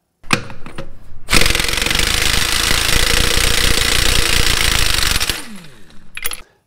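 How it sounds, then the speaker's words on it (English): An Ingersoll Rand air impact wrench hammers a lug nut in one sustained, loud rattling burst of about four seconds, with short taps just before, then the run winds down and ends with a brief final burst. "listen for the air gun, not the clanking around of the socket and the anvil and the lug nut"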